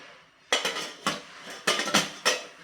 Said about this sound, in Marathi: आता एक खाली स्टीमरला जाळी घ्यायची जाळी ठेवायची आणि जाळीवरती हा डबा आपल्याला ठेवून घ्यायचा आहे